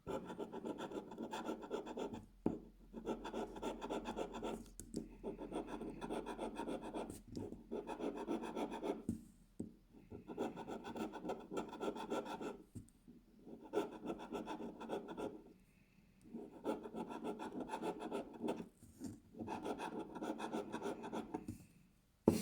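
A coin rasps steadily across a Lucky7 lottery scratch card in repeated bursts of scraping, close and quiet, with brief pauses between strokes.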